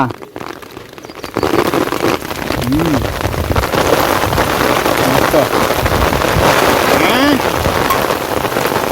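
Heavy rain pounding down on a farm field during paddy transplanting, a dense loud roar that starts abruptly after a second and continues, with voices calling out over it.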